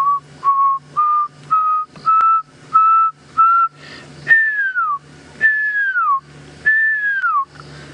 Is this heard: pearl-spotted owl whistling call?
yes